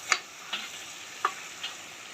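Chicken pieces sizzle steadily in a pan while a utensil stirs them, giving four soft scraping strokes over the quiet frying hiss.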